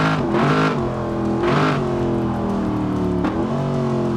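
A modified Dodge Hellcat engine with a stage 4 camshaft, roughly 1,000 horsepower, in BeamNG Drive revs loudly and close in repeated rising and falling surges with a deep, rough tone.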